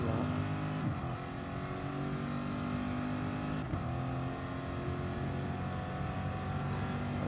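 Corvette race car engine from a racing video game at the Monza circuit, a loud, steady droning roar with layered harmonics that dips and climbs in pitch twice, suggesting gear changes or braking into corners.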